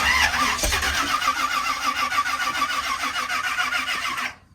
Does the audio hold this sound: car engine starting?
yes